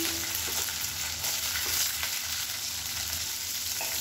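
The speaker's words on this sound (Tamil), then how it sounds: "இப்போ இந்த சின்ன வெங்காயம் நல்லா கலர் மாதிரி வதங்கணும்." Small shallots frying steadily in a pan, a continuous close sizzle with a few soft stirring scrapes and no talking.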